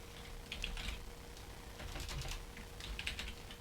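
Quick bursts of keystrokes on a computer keyboard while a file name is entered, clicky taps clustered in short runs over a low steady hum, close and moderately quiet with no voice.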